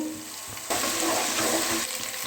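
Onions and ginger garlic paste frying in a pan with green chillies, a short close sizzle that jumps louder as the paste goes in, with faint stirring taps.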